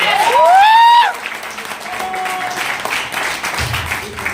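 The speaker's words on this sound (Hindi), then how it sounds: "एक बार जोरदार ताली बजा दीजिए सर" Seminar audience bursting into applause, a dense wave of clapping that peaks early and then thins out over the following seconds, with a voice faintly heard near the end.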